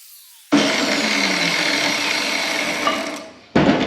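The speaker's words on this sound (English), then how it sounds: "A little grinding to do right there." Power grinder working metal near a weld during fabrication: an abrupt loud, steady high-pitched grinding roar for about three seconds that tails off, then starts again sharply, close and without speech.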